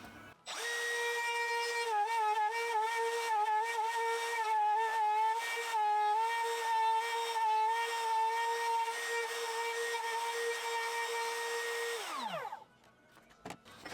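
A handheld cordless Makita trim router cuts a 40mm slot into a wooden test workpiece, giving a steady, loud high whine with small wavers under load for about twelve seconds before the motor winds down and stops.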